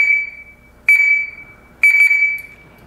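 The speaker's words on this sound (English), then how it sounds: "So the alarm is working." Electronic alarm fitted to a Kubota BX compact tractor sounds three loud, sustained high-pitched tones, each about a second long, separated by brief gaps, with no talk over it.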